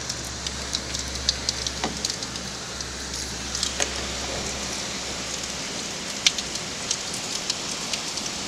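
Heavy tropical-style rainstorm in London, a dense, steady roar of downpour with scattered close drops spattering on surfaces throughout, no voices.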